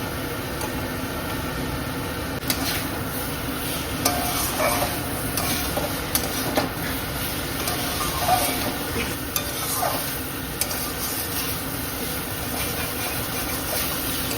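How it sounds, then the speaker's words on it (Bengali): Cauliflower florets fry in a pan of cooked-down spice paste, stirred now and then for a fish curry: a dense, continuous sizzle with occasional scraping and light taps, steady and close, under a faint hum. "মশলাটা কষানো হয়ে গেছে, এখন ফুলকপিগুলো দিয়ে দিচ্ছি।"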